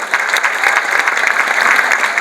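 Steady, dense applause from a festival audience for a young award-winning singer at MakFest 2019, loud and continuous throughout with no talking over it.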